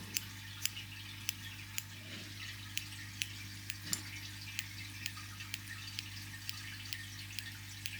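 Scissors trim a doll's hair in a string of faint, evenly spaced snips, each a short crisp click over a low steady hum.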